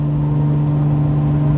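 Engine of an MK2 Supra rally car at the POR rally, a steady loud low drone with strong fixed tones, heard alone and close for a brief moment.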